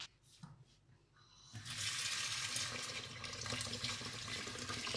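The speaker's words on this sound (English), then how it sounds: "So I will rinse the root system with lukewarm water" Lukewarm tap water runs into a sink for rinsing the roots of a Beallara orchid, starting after a quiet moment and then flowing as a steady, close splashing stream.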